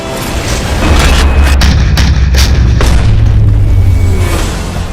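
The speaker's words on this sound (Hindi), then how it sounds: "भारतीय तोपों ने ऊंची पहाड़ियों पर बैठे दुश्मनों को दहला कर रख दिया।" Indian artillery guns firing at enemy positions on high hills, heard as a sustained rolling, booming rumble with deep low-end thunder and scattered sharp reports over several seconds.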